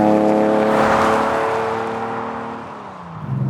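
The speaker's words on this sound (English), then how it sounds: "Very happy with the exhaust on this." A TVR T350C with the 4.0L Sagaris engine sounds its exhaust while driving, a loud close engine note that climbs and then eases off as the revs fall, continuous throughout with no talking.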